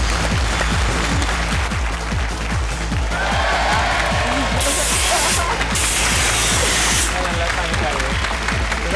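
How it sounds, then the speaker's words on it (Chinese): A studio audience applauds steadily as a TV talk show host welcomes the gymnast Chen Yibing's parents onto the stage; dense, sustained clapping fills the room with a faint crowd murmur underneath. "今天呢，我们就把二老请到了现场，我们掌声有请"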